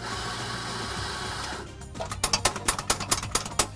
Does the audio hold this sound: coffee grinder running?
yes